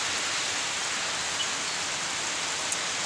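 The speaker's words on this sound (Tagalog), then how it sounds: "So lakas ang ulan." Steady heavy rain pours down on a roof, a dense unbroken hiss with no voices.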